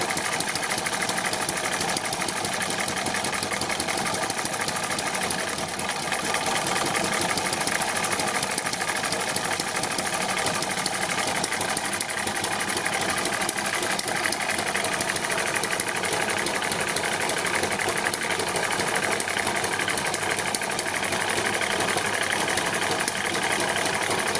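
An Eachine ET7 old-school hit and miss model engine runs steadily and close, a continuous mechanical chatter with fast rhythmic clicking and no voices.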